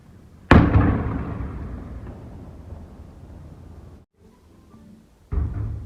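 A cannon is fired outdoors to announce the first day of the Ramadan fast. A single loud boom echoes and slowly decays, followed by a quieter pause and then a second, more distant blast.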